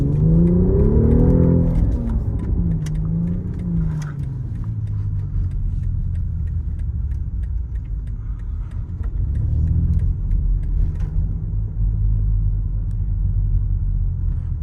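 A BMW XM sports car engine hums steadily in a low rumble throughout, with a couple of rising revs early on and again midway, heard from inside the vehicle.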